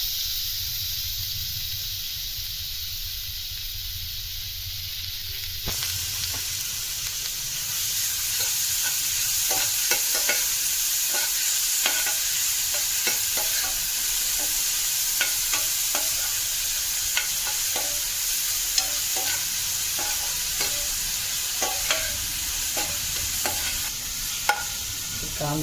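Chopped onion sizzles steadily in a pan while a spoon stirs it, giving a continuous hiss dotted with scraping clicks, quieter at first and then fuller and louder through to the end.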